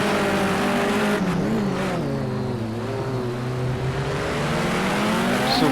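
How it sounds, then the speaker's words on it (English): Race car engines in Project Cars 2, a Group 5 race at the Long Beach street circuit, roar continuously with rising and falling revs through corners, several cars audible together, loud and steady with no talking. "Just go quiet for a minute and listen to these engines."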